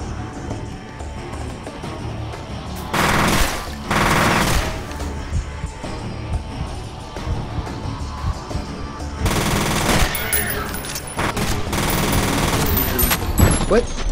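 Gunfire in the shooter F.E.A.R., with dense, loud machine-gun bursts sustained almost throughout and sharper peaks of heavier fire over continuous game noise.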